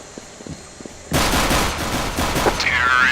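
Sustained burst of gunfire in Counter-Strike: Global Offensive, breaking in abruptly after a quiet stretch and continuing as dense, loud, rapid shots to the end, with a brief ringing tone near the close.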